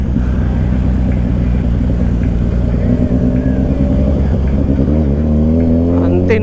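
A Kawasaki Ninja 1000SX engine-brakes down a steep slope on a rainy long ride in Bicol, its loud, steady drone close to the microphone, with the pitch shifting as revs change near the end.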